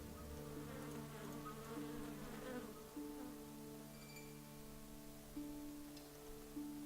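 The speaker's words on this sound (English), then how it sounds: "He's still being attacked by those bees." A dense swarm of bees in the game Evil Genius drones steadily, layered buzzing tones hovering and shifting in pitch, fairly faint, with no talking.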